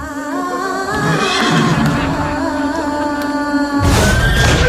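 A horse lets out a long, loud, shrill whinny with a quavering harmonic tone, close and continuous for several seconds, ending with a burst of rough noise.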